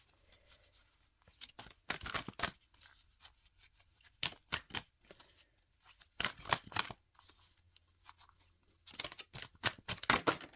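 A deck of cards is shuffled and drawn at close range, producing faint, crisp bursts of riffling and sliding card noise in irregular clusters separated by near-silence.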